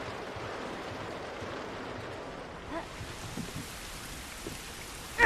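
Steady rain falling in the survival game The Last of Us, a soft continuous hiss of drops at low level with a few faint knocks and a brief louder sound at the very end.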